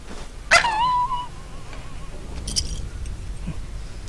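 Rex, a cyborg dog in the video game Fallout New Vegas, gives a single sharp bark that trails into a whiny yelp, followed by faint scuffling over low game ambience.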